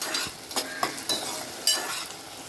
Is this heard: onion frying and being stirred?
yes